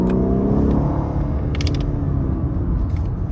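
Inside a 2018 Lexus LS 500 F-Sport, a synthesized engine note piped through the cabin speakers rises and falls as the ten-speed transmission downshifts, with a steady low road rumble underneath.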